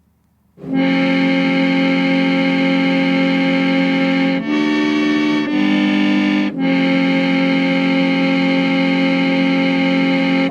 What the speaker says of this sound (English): And this is what it sounds like. Here's some chords.